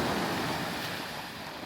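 Ocean water breaks over coastal rocks near Noosa, a steady, soft wash of surf mixed with wind noise and no distinct individual wave crashes.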